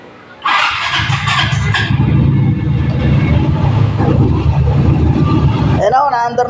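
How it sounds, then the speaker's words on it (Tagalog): A Yamaha Mio i 125 scooter under repair for a charging fault starts up in a motorcycle shop, its engine catching after a short crank and then idling loudly and steadily. "I-check natin yung charging niya pag to umistart"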